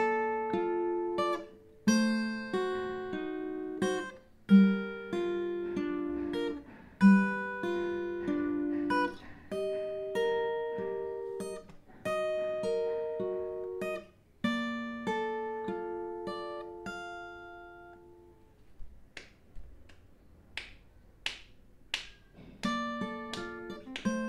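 Acoustic guitar picks out the plucked chords of the bridge of a song, each chord ringing and decaying in a steady rhythm, close and clear with no talking.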